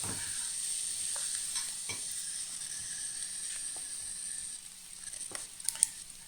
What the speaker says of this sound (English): So stir fry for a minute until the onions are softened.